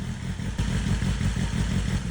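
A 2021 BMW S 1000 RR sport bike idles while warming up after a full service in a motorcycle workshop, its engine a steady, close, rumbling drone with a faint mechanical clatter and no pauses.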